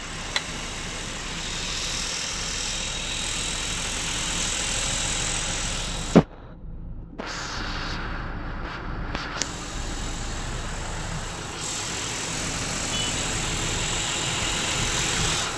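A heavy six-tyre Eicher truck engine idles steadily with a low, even rumble, interrupted by a brief sharp knock and a short dropout midway.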